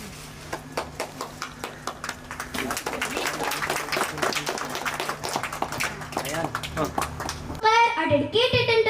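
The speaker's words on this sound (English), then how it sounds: "Please give a big round of applause." An audience at a school academy's opening ceremony claps, a few scattered claps growing into sustained applause that carries on for several seconds, before a voice speaks at the end.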